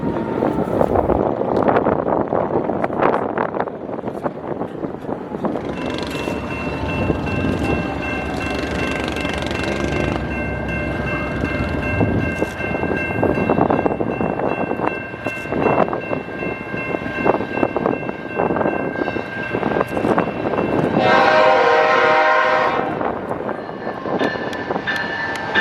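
Norfolk Southern NS 734, a loaded coal train with BNSF locomotives leading, rumbles past in a broad, wind-buffeted roar, with sustained horn blasts sounding partway through and again near the end.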